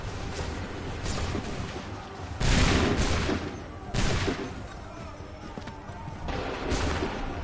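Musket volleys firing in the video game Assassin's Creed III, loud crackling bursts of massed gunfire with several swelling blasts over a constant din of battle noise, with voices shouting among the shots.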